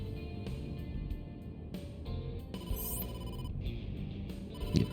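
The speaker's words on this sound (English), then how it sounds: "incoming call from the boss" A phone ringing in the video game AI: The Somnium Files, a quiet electronic ring tone repeating in short bursts over soft game background sound, with a brief rising chime partway through.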